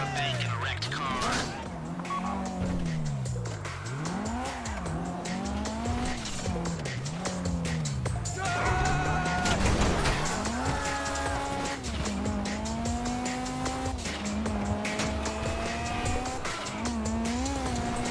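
Tires squeal repeatedly on an improvised car driven hard in GTA Online, loud and up close, the engine pitch rising and dropping in waves through the whole stretch while a voice talks over it.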